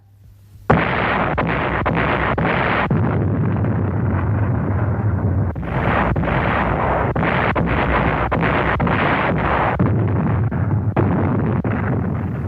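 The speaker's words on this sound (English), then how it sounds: "the Japanese bombarded the island fortress with every weapon at their command" A Japanese artillery bombardment of the Corregidor island fortress in 1942, from archival war film, fills the clip with a loud, dense roar of blasts and rumbling that surges in repeated bursts separated by brief dips.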